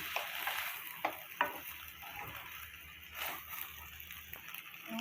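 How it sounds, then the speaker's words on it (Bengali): Fried rice stirred in a pan after kewra water and rose water go in, a faint hissing fry beneath occasional soft scrapes and taps of a spoon. "দিয়ে ভালো করে নেড়ে চেড়ে নেব"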